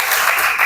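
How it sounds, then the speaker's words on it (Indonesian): Brief burst of children clapping in a classroom, a dense patter of hands lasting under a second, with no talking. "Tepuk tangan buat ini."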